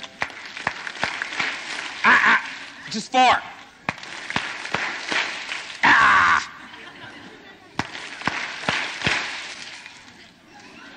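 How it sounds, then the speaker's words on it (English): An audience at a 1988 Children's Bible Hour summer tour event claps in a steady, even rhythm, with sharp, close hand claps and brief voices and shouts breaking in between. "And on this first verse, you're going to clap."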